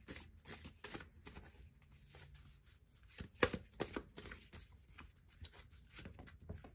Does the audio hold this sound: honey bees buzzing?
no